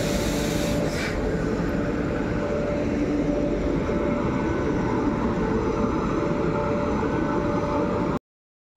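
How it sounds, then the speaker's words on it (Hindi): A train stands at Gonda Junction just before departure, giving a steady, loud rumble of idling engine and rail noise with a constant hum throughout and no talk. "अभी ट्रेन यहाँ से छूटने वाली है।"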